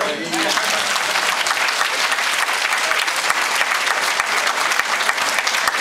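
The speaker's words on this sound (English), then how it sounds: "Y'all need to give a huge applause to your pastor and your deacons." A church congregation at a 110th anniversary service gives loud, sustained applause for the pastor and deacons, a dense close-sounding wall of clapping, with a few voices mixed in.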